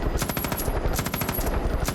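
Rapid automatic gunfire from the video game Far Cry 5, a steady stream of sharp shots repeating quickly and loudly for the whole stretch with no talk over it.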